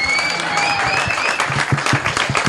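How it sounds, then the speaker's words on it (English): Applause from a single person, a brisk run of sharp claps rising toward the end, heard over a noisy street-like background with a faint high whistle or tone. "Sadly, that was one homeless guy. Just applauding."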